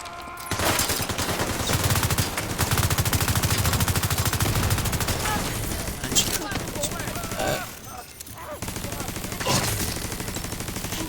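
Rapid gunfire from an M1A rifle in the video game The Division 2, loud dense bursts of shots running nearly continuously with a brief pause partway through, with a voice talking over the shooting.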